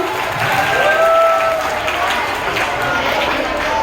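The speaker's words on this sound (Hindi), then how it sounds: "जोरदार तालियों से इनका स्वागत किया जाए" An audience at a school Children's Day event claps to welcome a student performer, a dense, steady wash of applause with a voice talking over it and a faint whistle-like tone early on.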